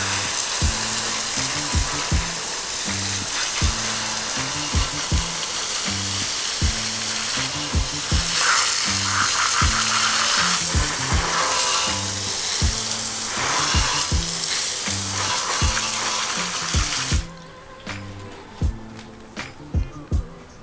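Water spray rinsing cleaner off candy-painted car wheels, a steady loud hiss running for most of the stretch with a rhythmic low thumping beneath, then cutting off abruptly near the end to leave a quieter background with a few faint clicks.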